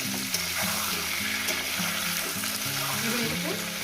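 Potatoes and papaya fry in an oil-coated pan with cumin, giving a steady close sizzle that runs through the whole stretch, with soft stirring scrapes on top.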